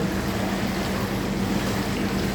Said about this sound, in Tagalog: Ito ang jacuzzi. Ay, ang ganda ng jacuzzi.